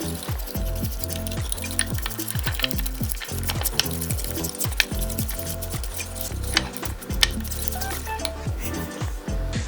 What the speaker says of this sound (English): Whisk that together until there's no lumps.